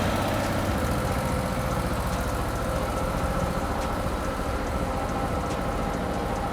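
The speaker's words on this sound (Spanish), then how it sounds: "Vamos a poner nuestra moto en contacto, en marcha" A motorcycle engine idles with a steady, dense rumbling chug that stays even from start to finish, close and loud, with no talk over it.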